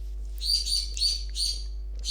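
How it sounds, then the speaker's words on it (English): Several birds chirp and tweet outdoors in short repeated bursts, moderately close, over a steady low hum with no talking. "I'm gonna fucking kill those birds in a minute."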